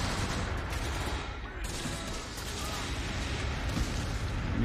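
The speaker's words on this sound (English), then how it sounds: "Uh-oh, there's a big grenade." Battle sounds from the Close Combat game: a grenade blast followed by continuous dense rifle and machine-gun fire, loud and unbroken throughout, with rumbling booms mixed in.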